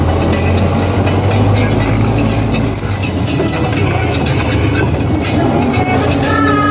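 An old crop sprayer rolls across a grain field with its 2-tonne tank of fungicide and insecticide, a loud, steady engine and mechanical rumble with rattling running continuously throughout.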